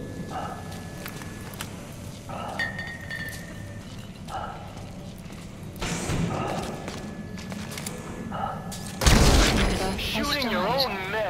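Gunfire and combat in Metal Gear Solid V: The Phantom Pain, scattered dull thumps and shots over a low rumble, ending in a louder blast burst, with game voices speaking throughout.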